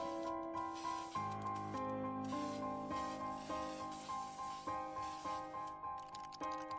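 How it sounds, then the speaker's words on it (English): Short bursts of spray paint hiss repeatedly from a hooded character tagging a dinosaur onto a library wall in the point-and-click game Mudlarks, rhythmic spritzes over a steady background music loop. "the hoodie that's spray painting a dinosaur on the side of the library"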